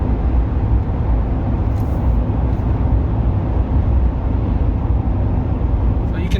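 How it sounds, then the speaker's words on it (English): Inside the cab of a 2021 Chevrolet Silverado with a 6.2L V8 and true dual exhaust with an X-pipe, cruising at 60 mph: a steady low engine and road drone fills the cabin throughout, with no voices. "cabin noise is not bad at all for a true dual."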